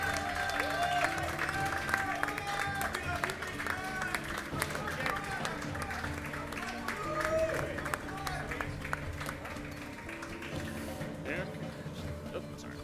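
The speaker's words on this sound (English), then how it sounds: "You guys got to keep applauding, otherwise it gets awkward." Crowd applauding at the Rainbow Six: Siege UGL Season 7 finals, sustained clapping with cheers under a voice speaking over it.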